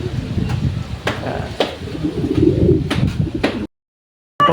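Racing pigeons coo in soft, low repeated calls close by at a loft in Santo Tomas, Batangas, with sharp knocks and clatter breaking in between before a brief silence.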